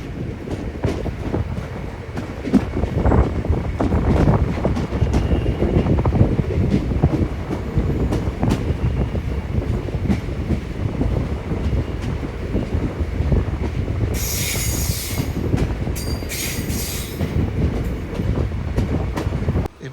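A train runs into Tripunithura station with a loud, steady rumble and wind buffeting the microphone, broken by brief bright screeches of wheels or brakes near the end.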